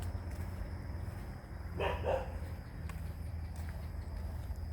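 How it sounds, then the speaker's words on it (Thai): A dog on a rural farm gives two quick barks in a row, distant and moderately faint over a steady background hum. "เห่าทำไมครับ ไม่ต้องเห่าค่ะ"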